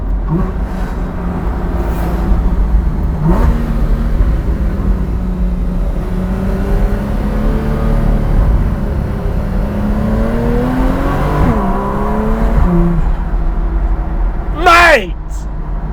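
A Porsche 981 Cayman S engine with Fabspeed F1 headers revs and rises in pitch under steady cabin rumble, with a person talking over it and a sharp rising whoosh near the end.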